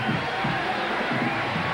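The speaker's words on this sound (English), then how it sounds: "So St. John's getting their crowd behind them." Crowd at Alumni Hall cheering during a 1988 St. John's versus Seton Hall college basketball game: a dense, steady roar of many voices with swelling shouts, filling the whole moment without a break.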